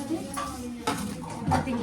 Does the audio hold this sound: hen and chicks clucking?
no